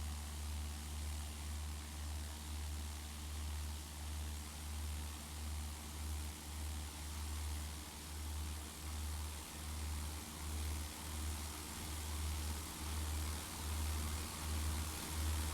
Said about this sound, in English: Try to take off when you reach 55 knots and climb out at 60 knots